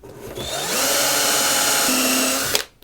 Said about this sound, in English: before you reach the countersink bit, this part removes extra material like that